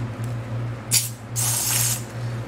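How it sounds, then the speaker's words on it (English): PB Blast spray lubricant sprayed into a hole during work on a Briggs and Stratton lawnmower engine: two close hissing bursts, a short one and then a longer sustained spray, over a steady low hum. "I'm gonna use a little spray lubricant to help with the cut in."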